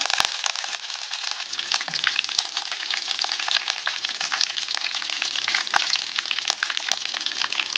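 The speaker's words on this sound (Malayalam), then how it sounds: "കടുക് പൊട്ടി തുടങ്ങിയിട്ടുണ്ട്" Mustard seeds splutter in hot oil alongside fenugreek, two dried red chillies and curry leaves, giving a dense, continuous close-up crackle with sharp individual pops scattered throughout.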